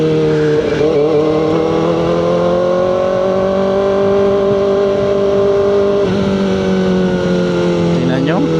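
A motorcycle engine revving hard while racing on the road, a loud continuous droning roar with rising and falling pitch close by throughout, a voice talking over it.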